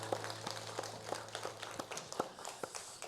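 Congregation clapping during a Sunday church service, heard as scattered, fairly quiet claps spread through the sanctuary over a low steady hum, with no talking.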